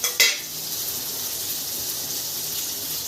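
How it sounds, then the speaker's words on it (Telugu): Chopped onion and carrot pieces drop into a pot of sambar with a quick clatter and splash, then a steady soft hiss of simmering continues alone. "ఇప్పుడు ఇందులో నేను ఆనియన్ ముక్కలను, క్యారెట్ ముక్కలు అనేటివి యాడ్ చేసేస్తున్నాను సాంబార్లోకి."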